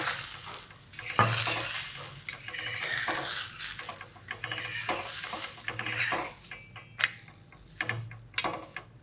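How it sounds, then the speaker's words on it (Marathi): Radish paratha roasting with ghee on an iron tawa, giving a steady soft sizzle with repeated scrapes and clinks of a spatula against the pan, close and alone. "खरपूस घ्यायचं भाजून तूप लावून"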